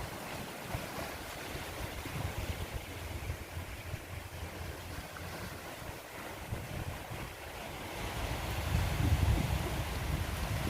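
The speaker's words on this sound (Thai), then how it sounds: "เสียงคลื่นในทะเล" Sea waves wash in with a continuous rushing roar, mixed with wind buffeting the microphone, the low surge growing stronger toward the end.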